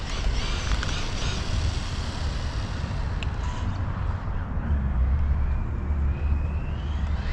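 An ARRMA Kraton mini RC car on a speed run gives a steady, broad roar of motor whine, tyre and wind noise that holds at a constant level throughout, with no voices.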